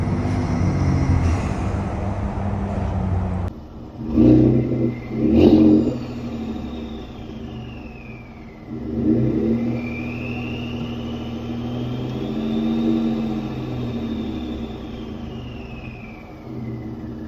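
A 2016 Ford F-150 with a 3.5 Ecoboost rumbles at idle, then gives two short sharp revs and a longer rev, with a gliding whistle over the engine drone.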